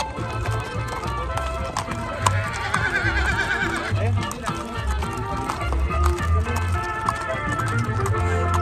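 A horse neighs briefly among riders joining a quinceañera celebration in Ciudad del Maíz, over clip-clopping hooves, band music and crowd voices.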